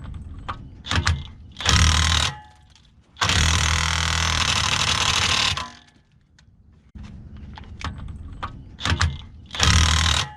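Impact wrench hammering a socket onto a lug nut, firing in several loud rattling bursts of varying length separated by pauses, close up.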